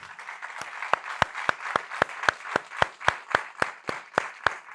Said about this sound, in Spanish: lo primero que quiero es dar un aplauso a David por lo que ha hecho en este libro.